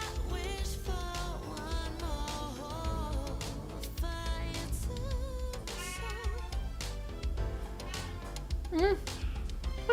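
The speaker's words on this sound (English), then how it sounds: "Apologies for my cat." A house cat meows repeatedly in short rising and falling cries, close to the microphone, mixed under someone talking continuously over steady background hum.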